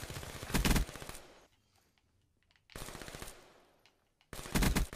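Three loud bursts of rapid video game gunfire from a one-on-one match, each lasting under a second, separated by near silence and close up, with no voices.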